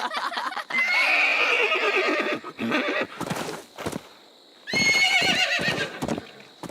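A cartoon pony whinnies loudly and at length while hooves clip-clop beneath it, then neighs a second time after a brief pause.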